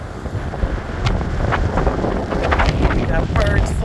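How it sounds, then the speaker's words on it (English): Strong gusty wind buffets the microphone at New Smyrna Beach, a loud roaring rumble that swells and holds throughout, with surf churning faintly beneath it. "It's a crazy, windy day."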